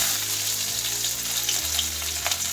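Finely sliced onions frying in a pan for a mutton and greens curry, a steady hissing sizzle close up with a low hum underneath and no speech.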